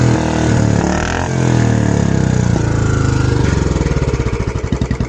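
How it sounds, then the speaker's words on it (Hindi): A new 350cc Bullet motorcycle with an EFI engine runs steadily close by, its loud thumping exhaust note continuous throughout and turning into distinctly pulsing beats toward the end, with no voices over it. "ये आपकी EFI इंजन के साथ आती है 350 सीसी में, और इसकी आवाज़ कुछ ऐसी निकल कर आती है।"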